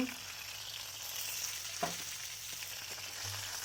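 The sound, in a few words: fish frying in pan for fish curry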